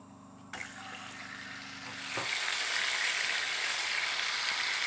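Chicken breasts with black pepper hit hot oil, and a sudden loud sizzle rises and holds steady and close after a quieter start.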